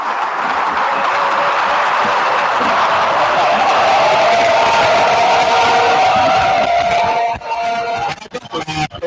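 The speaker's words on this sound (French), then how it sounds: "La plénière qui commence sous des acclamations" Cheering and acclamations fill a parliamentary chamber as a plenary session of deputies opens, a dense, loud, sustained crowd roar that fades into scattered voices and claps at the end.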